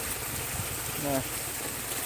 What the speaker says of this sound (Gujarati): આ જોજે પાણી ચાલુ છે અત્યારે માંડવીમાં